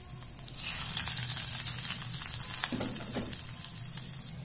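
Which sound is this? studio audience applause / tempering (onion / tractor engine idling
tempering (onion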